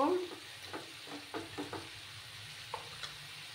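Cauliflower stems are stirred in a frying pan over a quiet, steady sizzle, with a loose run of soft scrapes and taps, then a couple of sharper knocks.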